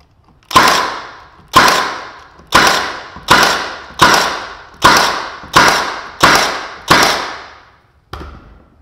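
A Milwaukee 18-gauge Gen 2 brad nailer fires into hard purpleheart wood, giving nine sharp, loud thwacks at a steady pace of about one per second, each fading quickly, with a softer tenth shot at the end.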